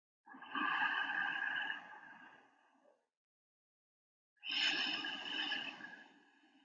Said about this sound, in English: See if you can just be with the noise of your breath as you move through several rounds of inhales and exhales, sounding like the ocean waves